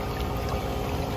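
A 1.85 hp Hayward pool pump drives water hard into a catch basin, producing a continuous loud rushing, gushing flow that stays steady and close throughout with no voices.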